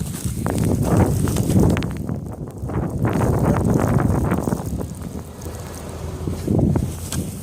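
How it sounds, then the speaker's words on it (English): Blizzard wind gusts loudly against the microphone in cold, freezing conditions, rising and falling in heavy buffeting surges with brief lulls between them. "When the wind is blowing, that's when it's getting real dangerous."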